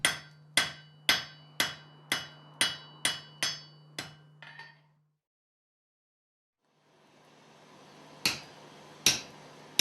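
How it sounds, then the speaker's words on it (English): A blacksmith strikes hot metal on a steel anvil: about nine sharp, evenly spaced ringing hammer blows with a steady hum beneath, a pause of near silence, then a few more clanging strikes over a rising background rumble. "The blacksmith uses an anvil to shape the metal."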